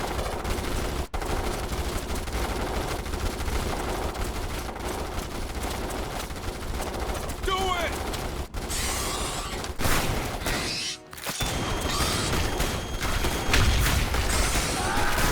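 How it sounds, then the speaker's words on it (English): Looped Morita rifle fire from the video game Starship Troopers: Terran Command: continuous layered automatic gunfire with thin bass, a steady dense wash with a brief dip partway through, no voices. "the looped audio used for the Morita rifles just fails to deliver"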